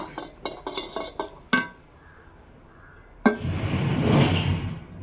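Cut raw mango pieces tumble into a metal pressure cooker, starting as a quick run of sharp clinks and knocks, then a single thud and a longer rustling clatter as the pieces settle.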